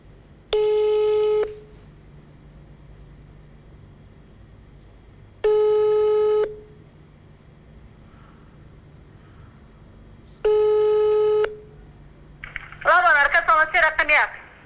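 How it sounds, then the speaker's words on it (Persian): A telephone call to an urban health center in Dushanbe rings out in three long, evenly spaced tones with pauses between, heard clearly and alone before a voice answers at the end. "ما حالا به مرکز سلامتی شهری رقم 1 شهر دوشنبه زنگ میزنیم."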